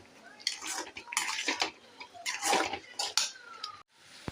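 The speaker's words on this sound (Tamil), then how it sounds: "இப்போ இது நல்லா கிண்டிகிட்டே இருக்கணும்." A spoon stirs semolina (rava) in a metal pot, giving irregular scraping and clinking strokes at close range, with a short pause before a final scrape.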